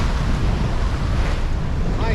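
Waves and gusting wind on a wild North Sea crossing under sail, a steady broadband roar of surf and wind buffeting close to the microphone throughout, with no talk.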